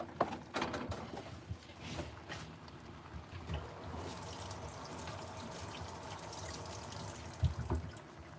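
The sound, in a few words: macaroni poured into pot of water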